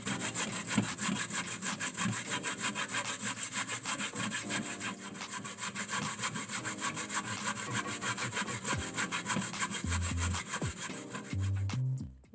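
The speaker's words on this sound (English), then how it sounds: "It's a lot of work when you grate in the coconut" Coconut grated by hand for Jamaican rice and peas, a steady rapid back-and-forth scraping rasp running continuously, close and loud, with no talking.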